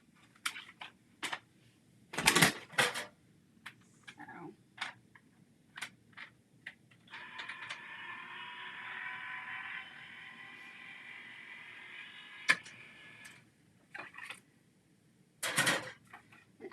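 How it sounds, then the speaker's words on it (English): Card stock fed through a die cutting and embossing machine gives a steady mid-high grinding whir for about six seconds, with scattered clicks and taps before and after. "let me run this through my die cutting machine"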